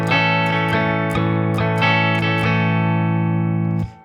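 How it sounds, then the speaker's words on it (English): An acoustic guitar chord strummed in a down, down, up pattern, sounding as six sharp rhythmic strokes that ring on and stop abruptly near the end, played alone and close. "So we're going to strum this with a down,"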